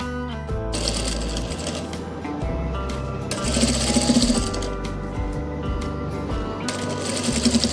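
A sewing machine stitches double lace onto a frock with gathered panels, running in steady rapid bursts with brief pauses between runs, close and fairly loud.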